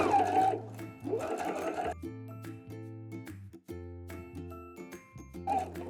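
Sewing machine stitching the bodice of a slip dress, running in several steady bursts separated by brief pauses, close and clear with no talking.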